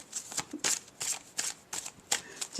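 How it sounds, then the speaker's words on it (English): A deck of cards is shuffled quickly, giving a series of crisp riffling bursts in an even rhythm, close up with no talking. "Just have a quick shuffle here."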